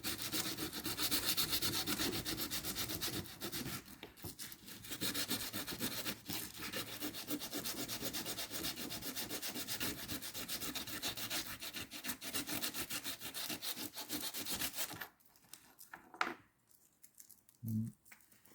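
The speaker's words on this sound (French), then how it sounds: "Donc voilà, je préfère poncer à la main." Hand sanding of a cut piece of slate, a close, continuous scratchy rubbing in fast back-and-forth strokes that goes on for about fifteen seconds before breaking into a few brief scrapes and knocks.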